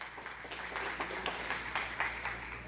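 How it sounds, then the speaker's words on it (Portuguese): Church congregation applauding steadily during a sermon, a dense wash of clapping from many hands that holds at an even level throughout, with a few louder claps breaking through. "Pode aplaudir, pode aplaudir."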